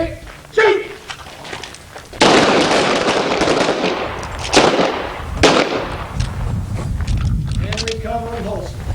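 Pistol gunshots during an outdoor Gunsite training drill, a few sharp loud cracks spread across the clip, the first around two seconds, with a voice talking near the end.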